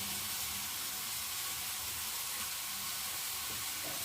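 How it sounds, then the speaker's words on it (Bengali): Prawns frying in a kadai give a steady, soft hiss and sizzle, constant and fairly quiet throughout with no talking. "এখন আমি ভেজে নিই চিংড়িটা।"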